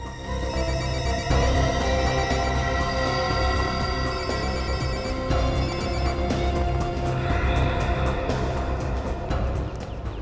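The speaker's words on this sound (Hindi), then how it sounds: "ये कोमल फोन क्यों नहीं उठा रही है?" A mobile phone ringtone plays on and on with no one answering, a loud, steady ring with a musical tone that fills the whole stretch and has no talking over it.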